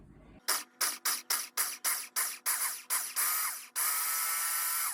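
A food processor pulses butter, flour and sugar into a crumbly pastry mix. Around nine short, loud whirring bursts come in quick rhythm, then the motor runs on in one longer continuous spin.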